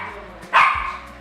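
A pet dog named Chili gives a single sharp bark, close and clear, rising briefly over faint background chatter in a room.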